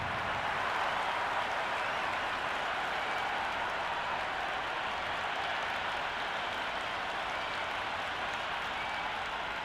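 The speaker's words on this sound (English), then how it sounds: "already the crowd making a hell of a racket" Steady crowd roar and applause from a virtual stadium crowd in the Cricket 26 video game at a Zimbabwe vs Australia T20 match, a dense continuous wash of cheering with no breaks.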